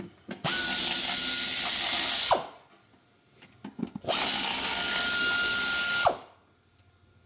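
Bolts on a Briggs & Stratton engine are tightened with a 10 mm tool in two loud, sustained whirring bursts of about two seconds each, separated by a short pause with faint clicks. No talking.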